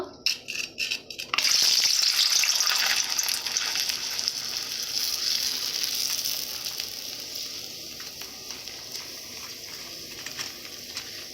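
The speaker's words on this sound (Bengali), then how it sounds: "তেল ভালো করে গরম করে নিয়েছি পাঁপড়গুলো ভেজে নেব" Papads drop into hot oil and burst into a loud, bright sizzle after a second of quiet clinking, the hiss gradually easing as they puff up and fry.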